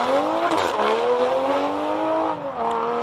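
A Toyota Supra race car launches hard off the line at a hillclimb event, its engine note climbing loud and steady with rising harmonic pitch, briefly dipping around a gear change before pulling on.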